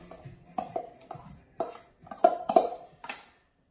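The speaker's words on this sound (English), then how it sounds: "Stirring your spaghetti squash." A utensil stirs spaghetti squash in a simmering pot, knocking and scraping against the sides in a string of about eight close, irregular clinks.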